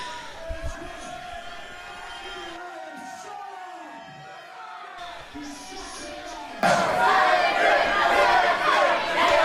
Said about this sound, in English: This crowd really giving it to Jamie Cox, calling him a chicken